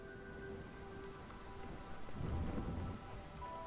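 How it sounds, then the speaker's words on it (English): Rain and thunder in the puzzle video game The Talos Principle: a steady hiss of rainfall over a low rumble that swells near the middle, with faint tonal hums beneath and no talking. "I don't know if I like this raining stage with the thunder."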